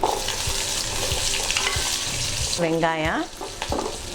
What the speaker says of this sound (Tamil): வரமிளகா, புளி போட்டு இதை லேசாக மிதமான தீயில கொஞ்சம் வறுத்துட்டு அப்புறம் வெங்காயம்